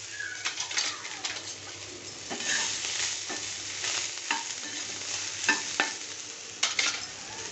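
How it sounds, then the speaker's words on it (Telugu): Vegetables and coriander fry in a pan for vegetable pulao, a close, steady sizzle broken by repeated sharp scrapes and clatters of stirring. "కొద్దిగా వేగనిద్దాం. దాంట్లోనే కొద్దిగా కొత్తిమీర వేసుకుంటున్నా."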